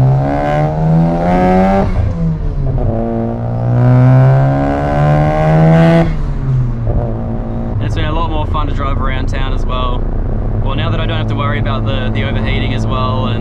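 A Mazda FD RX7 rotary engine revs and pulls hard while driving through city streets, a loud droning note rising in steady sweeps, dropping back between gear changes, then settling into a rougher burble.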